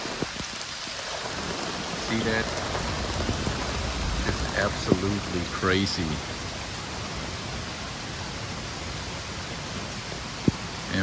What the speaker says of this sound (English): I hope it stops raining pretty soon.